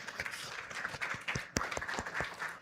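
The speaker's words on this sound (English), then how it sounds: "Let's give them a round of applause." Faint, scattered applause from an audience at a women's real estate awards conclave, with uneven individual claps and a low crowd murmur beneath them.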